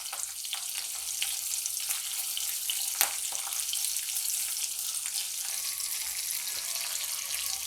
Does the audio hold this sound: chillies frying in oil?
yes